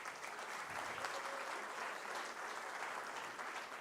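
Steady, sustained applause from a standing conference audience and dignitaries at an inauguration ceremony, many hands clapping evenly at a consistent level throughout.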